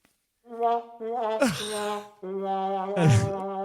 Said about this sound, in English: That's a trombone fart.